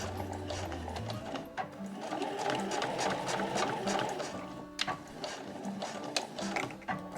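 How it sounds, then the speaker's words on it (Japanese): A sewing machine runs a steady fast stitch through a quilted nubi cotton tablet case, its close mechanical whirr and rapid needle ticks continuing with brief pauses and no talking. "そしたら脇から縫い始めます。"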